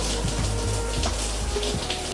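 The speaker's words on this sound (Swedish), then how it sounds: "Och bara sätta mig där och köra varmt vatten." A shower running hot water, a steady broadband hiss of spray with faint splashing close by, alone throughout.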